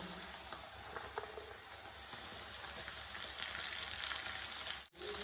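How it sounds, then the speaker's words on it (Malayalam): One large sliced onion hits the hot oil in a pan while making a street-style paneer kathi roll, giving a steady, close sizzling hiss that swells slightly toward the end. "നമുക്ക് അതിലേക്ക് സവോള ഇട്ട് കൊടുക്കുക."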